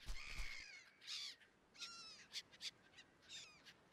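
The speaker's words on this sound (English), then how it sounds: "Little birds!" Birds call on a tiny tropical island in the survival game Stranded Deep. Several faint, harsh caws and chirps are scattered over a few seconds against a quiet, hissing background.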